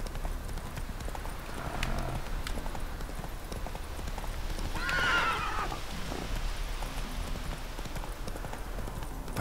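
A horse's hooves clip-clop steadily through the whole stretch in The Witcher 3, with a short, bright whinny rising midway.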